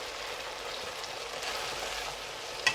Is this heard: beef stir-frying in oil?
yes